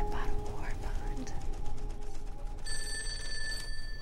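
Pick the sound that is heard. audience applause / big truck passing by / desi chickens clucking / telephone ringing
telephone ringing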